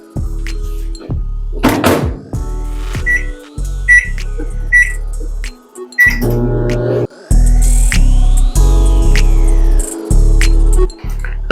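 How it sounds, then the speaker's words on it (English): A microwave oven running on high with a frozen country fried chicken and gravy meal hums loudly in bursts, broken by short electronic beeps and a few clunks, with no one talking. "we need to microwave on high for"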